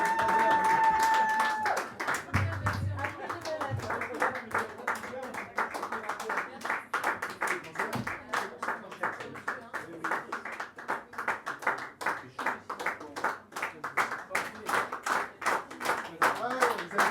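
Sustained audience clapping at a French slam poetry tournament, a dense, steady patter of many hands lasting well over fifteen seconds, loud and close, with a few voices briefly audible underneath.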